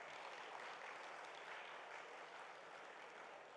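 Dense, steady audience applause fills a hall for a guest speaker at a Sai Properties & Projects event, a continuous wash of many hands that holds level for the whole stretch with no talk over it.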